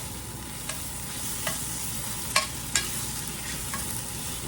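Flour browns and sizzles in a skillet with meatballs, a steady close frying hiss broken by a few soft scraping stirs.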